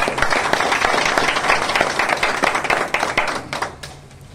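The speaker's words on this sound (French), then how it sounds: "Et on l'applaudit encore." A crowd claps for a newly installed departmental anti-corruption director at an official ceremony, brisk applause that holds steady and then thins out into scattered claps before stopping.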